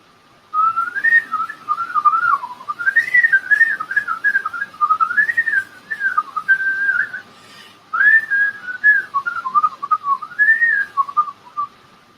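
A sharp, agile two-finger whistle imitates Charlie Parker bebop jazz, running through fast, twisting melodic phrases with brief pauses between runs, loud and close, with no talking.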